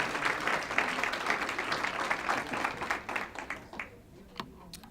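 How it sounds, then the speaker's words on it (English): An audience at a PTA council founder's day dinner applauds the musicians, a full round of clapping that tapers into a few sparse, isolated claps. "let's give a round of applause to all the musicians that have played and are yet to play"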